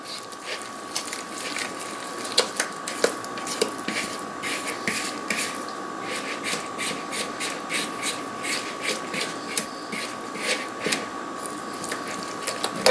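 Pizza dough batter being mixed in a bowl with a pan scraper, making steady, rhythmic scraping strokes at a moderate level over a constant faint hum, with no talking.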